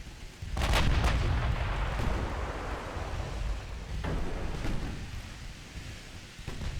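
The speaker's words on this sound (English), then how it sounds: "Gun's doing a good job, actually. Got one hit on that light cruiser." Naval gunfire in the video game Ultimate Admiral Dreadnoughts, with a heavy booming salvo near the start and another around the middle, rolling over steady sea and wind noise, fairly loud and without talk.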